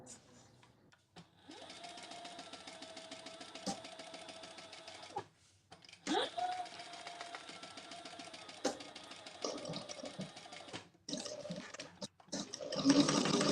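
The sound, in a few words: sewing machine top stitching fabric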